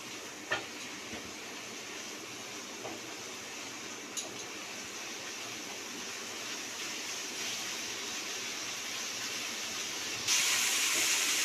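Masala frying in oil in a pan for a rui posto fish dish, giving a faint, steady sizzling hiss with a few soft clicks of stirring and a brighter burst of sizzle near the end.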